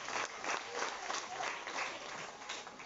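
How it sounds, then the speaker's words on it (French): Applause from an audience at a civic gathering honouring a Lord Mayor and council, steady clapping from many hands lasting a few seconds, with a voice speaking over it. "Applaudissements pour le Lord Mayor et ce conseil."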